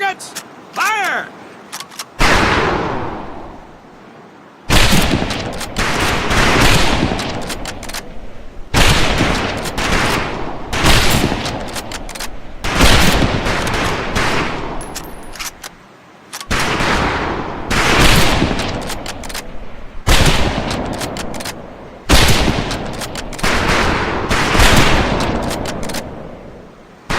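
Rifle gunfire at a shooting range in the Medal of Honor Pacific Assault game: loud, near, repeated volleys of shots with brief gaps, and voices heard over the shooting.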